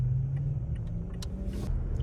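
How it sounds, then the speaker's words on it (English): A Ferrari 599 GTO drives past on a road during Monterey Car Week, a steady low engine rumble and tire roar at moderate distance, with a few faint clicks and a brief hiss. "Is that 599? Yeah, 599 GTO."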